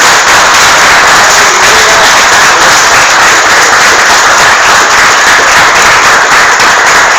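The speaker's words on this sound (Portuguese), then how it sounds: "dê um aplauso bem forte ao Senhor" Loud, dense applause from a church congregation fills the space steadily and without pause, a thick wash of clapping and crowd noise that stays at full level from start to finish.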